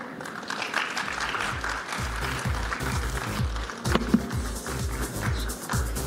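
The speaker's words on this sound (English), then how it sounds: "Let's give them a bigger round of applause, please." A conference audience applauds a panel in steady clapping, with rhythmic low thumps running through it and a few louder claps standing out.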